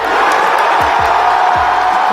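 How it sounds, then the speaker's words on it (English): Crowd cheering at a Connecticon death match, a steady dense roar of voices that carries through the whole stretch, with a few sharp low thumps landing under the cheers. "So you'll see they're cheering for him."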